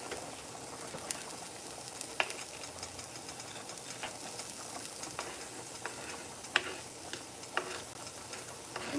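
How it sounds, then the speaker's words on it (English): Onions, peppers and fresh garlic frying in a pan with ground beef and Italian sausage for spaghetti sauce, a soft continuous sizzle with scattered sharp pops and clicks of stirring, faint and close. "put the onions, peppers,"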